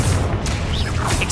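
A Confringo spell explosion in a Harry Potter video game booms loudly with dense low rumble throughout, a short burst of crashing debris over it.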